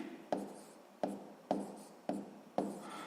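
Numbers written down during a sixth-grade math lesson: five evenly spaced pen strokes, each a crisp scratch that tapers off, close and fairly quiet with no talking.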